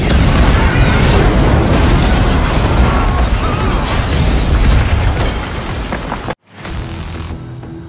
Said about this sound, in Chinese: 此时龙叔提前设置好的炸弹已经进入了倒计时状态